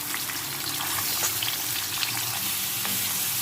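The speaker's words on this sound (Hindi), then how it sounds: "वाइट होने तक इसे फ्राई करना है।" Half a kilo of chicken pieces fry in half a cup of hot oil in a karahi for a Balochi chicken karahi. A dense, loud, crackling sizzle runs steadily throughout, with no talking.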